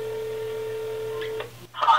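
A telephone is dialed for a prank call, with a steady tone followed by a quick pair of keypad beeps. A voice then starts speaking right after the dialing.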